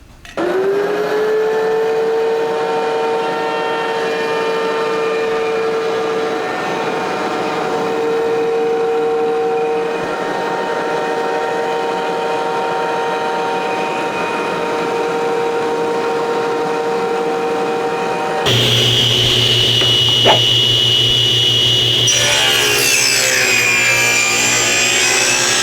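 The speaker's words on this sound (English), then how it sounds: "we'll go ahead and mill up these two pieces at the same time at the planer" A thickness planer mills two wood pieces for a knife sharpening jig, droning loud and steady with a sustained whine for most of the stretch, then shifting to a harsher, rougher cutting roar near the end, no voices.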